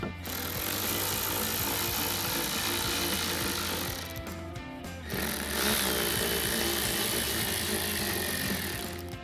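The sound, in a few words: removing screws with a T20 Torx bit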